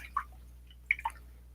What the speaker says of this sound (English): Let's go ahead and get this brush clean real quick. I don't want to leave our brush in the water.